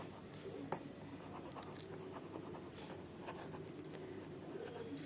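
A pen scratches across paper in soft, close strokes and taps, writing out maths working in a steady pattern of short scribbles over a faint background hiss.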